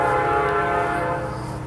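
A Canadian National Railroad train sounds its horn, a loud sustained multi-tone blast that holds steady nearby, with the rumble of the passing train underneath before it begins to fade slightly.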